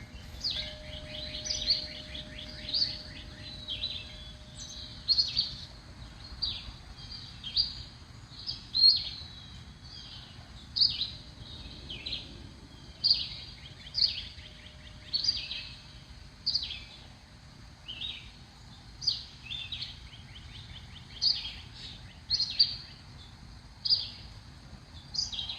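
Small birds chirp at a backyard feeder on a spring morning, short bright bursts repeating every second or so, fairly faint against a low steady background hum.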